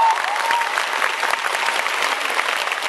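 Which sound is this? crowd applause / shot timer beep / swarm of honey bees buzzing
crowd applause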